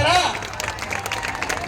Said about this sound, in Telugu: పోలీస్ డిపార్ట్మెంట్ వారందరూ కూడా ఒకసారి గట్టిగా చప్పట్లు కొట్టారా?